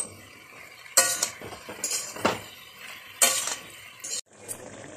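Ridge gourd frying uncovered in a pan, a soft ongoing sizzle broken by several sharp scrapes and clinks of a spatula stirring against the metal.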